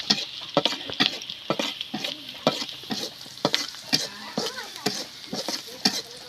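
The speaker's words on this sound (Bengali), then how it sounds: "কয়েক টুকরা কাঁচামরিচ দিলাম চিরা কাঁচামরিচ এরকম করে পেস্টটা নাড়াচাড়া করবেন" Spice paste with slit green chillies fried and stirred in a pan, a rhythmic series of close spatula scrapes over a gentle sizzle.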